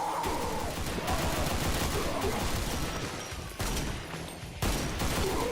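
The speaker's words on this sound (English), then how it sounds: "Trying to shoot that fucking barrel." Rapid bursts of video game gunfire aimed at a barrel in a survival horror game, dense and continuous over a steady noisy background with a couple of brief breaks.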